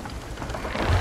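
Storm at sea in Sea of Thieves, with a dense, loud hiss of heavy rain and a low rumble of thunder swelling at the end, no voices.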